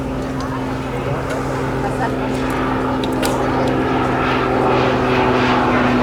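A propeller aircraft makes a high-speed pass at a hot-air balloon event, its engine drone loud and steady throughout while a voice talks over it.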